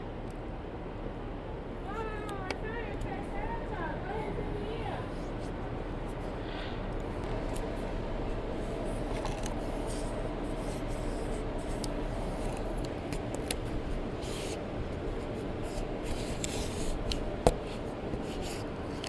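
Masking tape is pressed and rubbed onto a van roof along a template to outline a vent-fan cut: soft, continuous scraping and rubbing with occasional faint taps, heard outdoors alone without talk.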